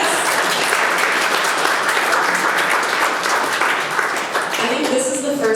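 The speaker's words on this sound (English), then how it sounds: "Round of applause." At a historical society's annual membership meeting, the audience claps loudly and continuously for its volunteers in a thick, sustained burst that stays full, with a few voices rising near the end.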